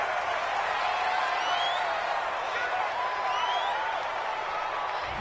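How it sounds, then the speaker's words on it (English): A home crowd in a PS4 football video game roars in approval after a referee's call on third down, a sustained, even wall of cheering and applause with a few faint whistles rising through it. "This home crowd, they're happy with that call."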